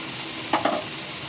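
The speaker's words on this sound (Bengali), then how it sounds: "আলুগুলো হালকা ভাজা ভাজা হবে এখানে" Potatoes fry lightly in a pan under a faint, steady sizzle, with two short stirring scrapes close together partway through; no one speaks.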